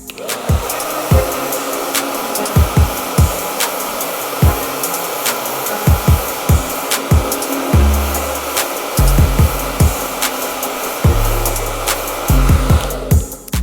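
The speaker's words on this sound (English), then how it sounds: "I'm now going to begin to blow dry my mid-lengths." A handheld hair dryer blows steadily while mid-length hair is dried with ERGO styling tools, its broad airflow rush running continuously with repeated low thumps and handling knocks underneath.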